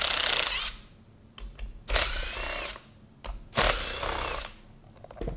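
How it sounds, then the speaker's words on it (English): Power tool with a 13 mm socket loosening the bolts that hold a rowing machine seat to its rails, three loud close bursts of whirring separated by quieter pauses with small clicks and handling noises. "remove the 4 main bolts that go through the rails into the seat. So again, 13 mil socket."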